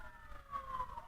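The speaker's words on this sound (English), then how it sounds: "Can you hear all those sirens?" Emergency vehicle sirens wail outdoors at a distance, a faint, steady tone drifting slightly in pitch beneath low background rumble.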